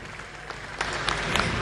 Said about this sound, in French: Merci d'applaudir très fort pour elle.